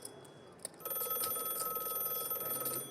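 A phone rings with a bright, steady electronic trill that starts abruptly after a short pause and holds loudly to the end, during a poker game broadcast.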